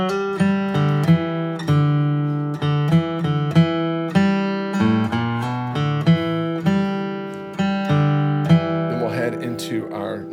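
A banjo picks out a quick melody line as the closing phrase of a solo, with rapid plucked notes in a steady, bright rhythm, played alone and close.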